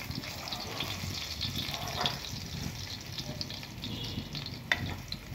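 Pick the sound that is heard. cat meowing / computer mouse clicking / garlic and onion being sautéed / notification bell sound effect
garlic and onion being sautéed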